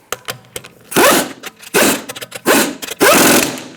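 A socket wrench works the wheel lug nuts on a Buick Encore in close, loud bursts, four quick whirring spins separated by short pauses and small ratcheting clicks.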